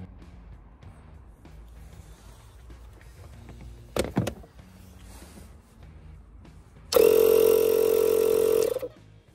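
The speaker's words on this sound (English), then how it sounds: "the pump should work, and I'll turn it on so you can hear it" The tire inflation compressor built into a Porsche switches on abruptly with a loud, steady electric buzz for about two seconds, after a short clunk and low background noise.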